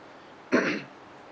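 A single short throat clearing with a cough-like rasp, close and fairly quiet, standing alone against a faint room hum.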